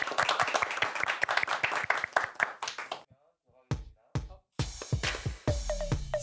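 An audience welcomes performers onto a Catholic senior program's stage with sharp, close claps for about three seconds, then a pause, a few scattered claps, and music with voices taking over.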